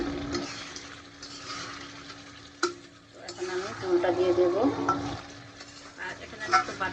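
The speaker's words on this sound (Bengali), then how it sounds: "এখন আমি ভালোভাবে কষাই নেব চিকেনটা" Chicken with ground spices being stirred and sautéed in a pan for deshi chicken bhuna, a steady sizzle with scraping stirs that grows busier toward the end, with a sharp clatter partway through.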